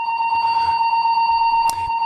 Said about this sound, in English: they're testing the fire alarms in the building I'm in right now